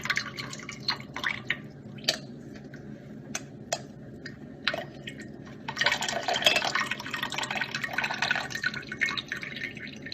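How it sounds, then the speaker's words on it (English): Strained liquid from a Rehmannia and date herbal decoction drips and trickles into a rice water mixture, beginning with sparse, separate close drips that turn into a denser continuous pour partway through. "we're going to strain out the Rehmannia and dates and put the liquid into the decoction, or the liquid decoction into the rice water mixture."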